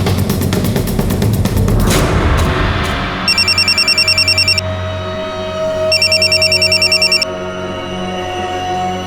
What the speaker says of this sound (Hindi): इस नंबर पे फोन लगा के देखो